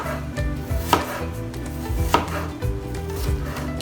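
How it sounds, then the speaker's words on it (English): A knife chops apple strips into smaller pieces on a board, giving a close series of quick, uneven cutting taps with no voices. "we'll take a few of the strips and just start slicing them smaller."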